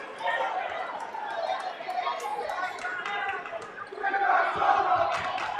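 Crowd at a high school boys basketball regional final at the Cintas Center booing a referee's call, a sustained wash of jeering and chatter that swells louder near the end.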